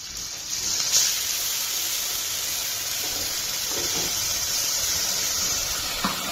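Onion paste and tomato fry in a pan, giving a steady, fairly loud broadband sizzle that hisses continuously with a few faint clinks and stirring sounds, no talking.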